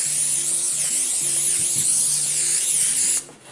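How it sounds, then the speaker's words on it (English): A continuous loud hiss of aerosol cooking spray, close up, held for about three seconds before cutting off abruptly. "You spray your pans with pan spray"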